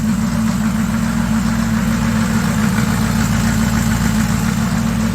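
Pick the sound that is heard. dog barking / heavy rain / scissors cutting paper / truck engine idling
truck engine idling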